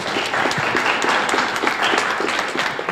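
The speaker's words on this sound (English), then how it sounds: "I wanted to wait until you gave her an applause" Audience applause at a workers' rally demanding a $15 wage, a dense, continuous crowd of hands clapping close by, steady and lively throughout, with no talk over it.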